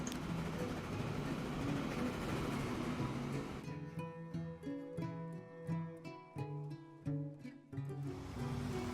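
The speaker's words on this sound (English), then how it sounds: "So while we wait for the train to go back and forth" Rumbling train noise from the Transport Fever 2 game, a dense roar giving way to rhythmic clacking of wheels over rail joints at a steady beat, moderately near and continuous.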